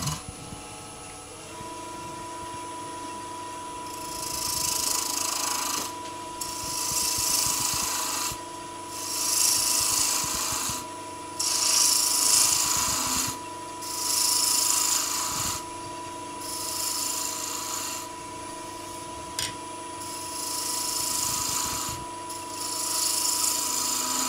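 A woodturning tool skims the outside of a wooden salt and pepper shaker, a threaded box, spinning on a lathe. Repeated rasping passes come in regular bursts over a steady motor hum.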